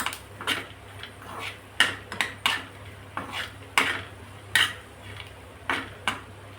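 Coconut slices dry-roasting in a pan for stuffed chillies, heard as a steady series of scraping, clinking stirs of a spoon against the metal, roughly one or two per second, close and fairly quiet with no talk.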